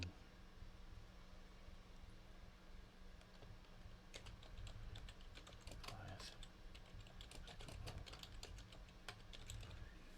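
Typing on a computer keyboard during a tabletop D&D session, a steady patter of soft key clicks that grows busier partway through, over a constant background hum.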